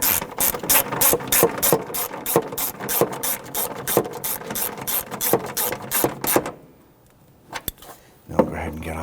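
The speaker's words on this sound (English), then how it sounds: "we are going to do it with a hand ratchet" A hand ratchet clicks in quick, steady bursts while snugging bolts on the plastic windshield washer reservoir of a 2000-2006 Toyota Tundra, loud and close, then a short pause and a few isolated clicks.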